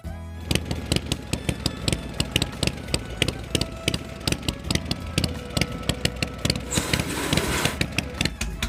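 An air-cooled Harley-Davidson Panhead V-twin motorcycle engine with aluminium cylinder heads and hydraulic valves running close by, a loping, uneven beat of sharp exhaust pulses that swells slightly near the end.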